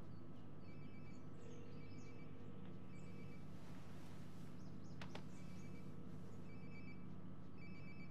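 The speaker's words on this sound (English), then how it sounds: "Sounds like my phone is definitely nearby." A phone rings somewhere nearby in the video game Life Is Strange Before the Storm, a faint repeating electronic ring over a steady background hum, continuous through the stretch with no speech.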